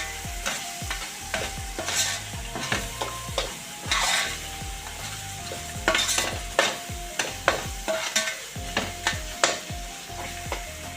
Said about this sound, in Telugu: దీంట్లో ఒకసారి కలుపుకుందాం